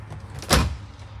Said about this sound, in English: Pocket door, so it slides out of the way here.